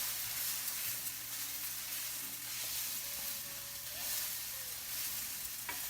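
Cholar dal, Bengali lentils, sizzles steadily in a pan while being stirred, a constant frying hiss with faint scraping, close and alone without voices.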